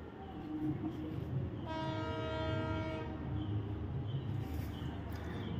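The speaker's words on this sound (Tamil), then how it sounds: "ஸோ ட்ரெயின் வர்றதை நீங்கள் இப்போ பார்க்கலாம்." A WDP4 diesel locomotive hauling a Workmen Special express pulls into a station near Madurai, sounding a long, loud harmonic horn blast for about a second and a half over a steady rumble of the moving train.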